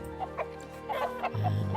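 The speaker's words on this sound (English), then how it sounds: "chicken doing chicken things" Barnyard chickens strut about in a zoo game, soft repeated clucks at a moderate distance over a faint steady background hum, with a deeper low tone near the end.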